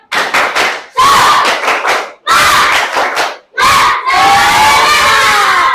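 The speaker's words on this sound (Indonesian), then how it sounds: "Tepuk semangat" A classroom of primary-school children performs the rhythmic 'tepuk semangat' spirit clap chant indoors, loud and close, with four bursts of unison shouting and clapping separated by brief pauses, the last burst drawn out into a sustained group cry.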